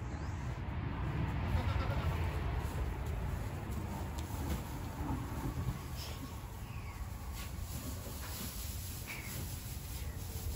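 Goats bleat faintly at a distance outdoors, the calls thin and intermittent over a steady low background rumble, with no clear speech.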